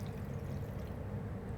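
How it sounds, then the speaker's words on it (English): Water poured into a pan of peeled carrots, a faint, steady low splashing stream running throughout, soft and close with no voices. "we're going to add a little bit of water to that"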